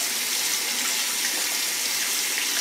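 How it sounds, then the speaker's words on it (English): Cold water running from a kitchen or bathroom tap, a steady, even hiss of flow lasting a few seconds without pause, close by and alone with no voices. "Okay, hold on, I gotta get some cold water."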